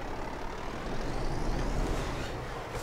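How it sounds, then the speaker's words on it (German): A heavy truck engine in Euro Truck Simulator revs up into a dense, roaring drone that grows louder toward the middle and stays steady and close, with no voices over it. "Der dreht ja so schön hoch."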